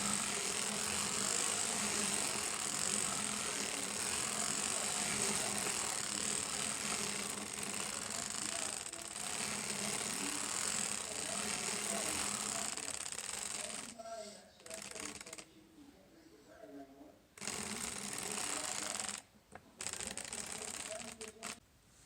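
Circular sock knitting machine being cranked through rows, a fast continuous rattling and clicking of needles that stops and starts toward the end, close up with a voice talking over parts of it.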